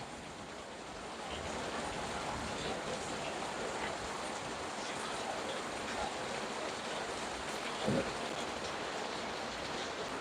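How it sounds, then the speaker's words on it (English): Rain falls outdoors as a steady, wide wash of hiss that swells in after the first second and stays even, with a single brief thump near the end and no one speaking. "I'm just gonna let you guys enjoy this rain for a couple seconds."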